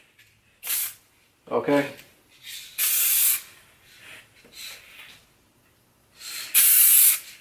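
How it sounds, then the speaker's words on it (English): A color-matched SprayMax aerosol spray paint can sprays onto cardboard in several short, loud hissing bursts close by, with brief speech in between. "I'm gonna check on the cardboard, see how it sprays actually"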